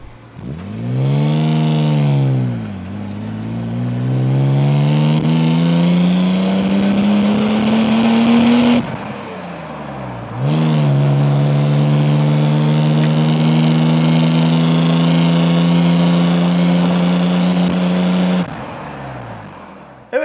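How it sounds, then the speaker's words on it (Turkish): The inline-six engine of a classic Mercedes 280 CE (W114) revs up steadily, drops briefly as it shifts, then climbs again in a long, loud acceleration before easing off. "Sıralı 6, böyle homurtulu bir sesi var."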